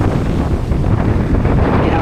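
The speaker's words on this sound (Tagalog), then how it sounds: "Mahangin." Strong seaside wind near a fishing port with big waves blasts the microphone in a continuous, dense, blustery roar, with possible voices underneath.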